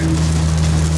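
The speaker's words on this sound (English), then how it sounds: "you can hear the thickness and the sound of the rain just dumping right now" Heavy rain pours down steadily, a dense continuous roar of water close by with a low steady hum underneath.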